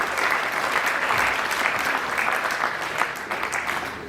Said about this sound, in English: Please, can I also give them a round of applause?